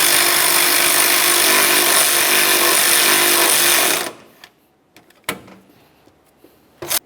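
A power tool snugs headlight mounting bolts on a 2004-2006 Scion xB, running as one loud, steady burst for about four seconds before cutting off, followed by a few faint clicks and knocks.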